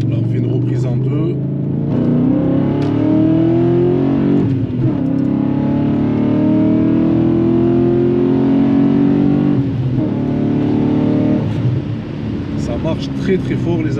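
A BMW 540i E39 V8 pulls hard through the gears, its engine note rising in pitch with brief dips at the shifts, loud and close from inside the car, with a voice talking over it.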